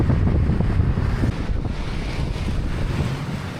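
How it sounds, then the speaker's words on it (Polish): Strong wind blows across a long bridge in Da Nang, buffeting the microphone with loud, continuous low rumbling gusts that swell and ease slightly without pause. "Tak wieje, że aż mi głowę urwało prawie."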